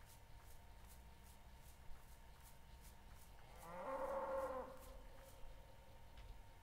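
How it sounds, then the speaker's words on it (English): A cow in the survival game Rising World lets out one drawn-out moo midway through, clearly standing above a steady background hum of ambient game sound with faint rhythmic ticks. "Mr. Cow here."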